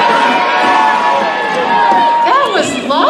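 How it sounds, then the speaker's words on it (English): A live roller derby crowd yells out players' names together in a loud burst of mixed shouting and cheering, with overlapping voices, some higher-pitched, filling the arena briefly. "I want you to yell the name of the person that you're cheering for on the count of 3"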